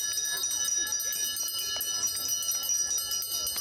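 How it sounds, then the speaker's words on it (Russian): A small hand bell rings at a primary school graduation ceremony, its bright steady chiming carrying through the whole stretch over a busy background of crowd noise. "Звон колокольчика как символ прощания с начальной школой."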